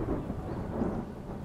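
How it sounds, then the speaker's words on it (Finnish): A short, low rumble of thunder from a thunderstorm rolls steadily through a moment of quiet, with no voices. "Ukkosen jyristessä, samaan aikaan salaman iskiessä maahan"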